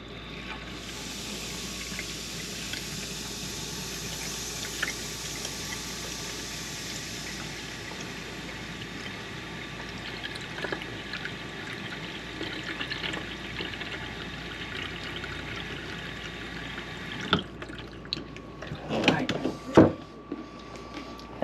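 Steady running water hisses from a pull-out kitchen faucet for most of the stretch, then cuts off, followed by a few clanks and knocks near the end.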